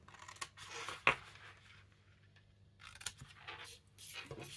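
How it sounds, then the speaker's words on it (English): Scissors snip the corners off a paper square during a birthday card stamping craft: one sharp close cut stands out, with a few softer snips and paper handling around it in a quiet room. "I need to just cut those corners on there and on there"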